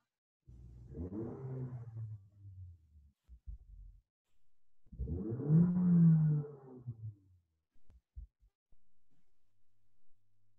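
A Chevy or Nissan car engine being revved in two strong bursts, each swelling and dying away, heard close and loud with quiet gaps and a few low thumps between.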